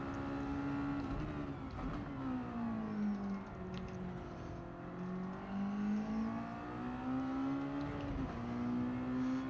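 A Roadster touring car at Tsukuba in Gran Turismo 7 drones loudly and steadily, its engine pitch sliding down and climbing back through gear shifts, with no voices.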